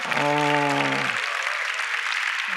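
A church congregation claps during a Friday worship gathering, a steady wash of applause under a sustained held tone that fades off, with the clapping continuing alone afterward.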